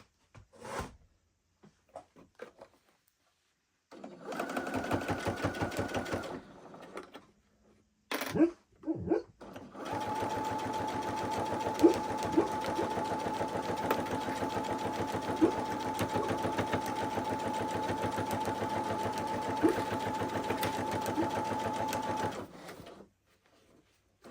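A sewing machine stitches a quarter-inch seam while sashing a quilt, first in a short run, then after a few quiet clicks in a long, steady, close whirring stretch of about fourteen seconds.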